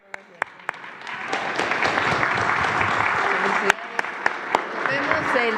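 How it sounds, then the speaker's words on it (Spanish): Audience applause fills a press conference hall, steady sustained clapping with a few sharp individual claps standing out, building slightly and holding at a loud level throughout. "Otro gran aplauso."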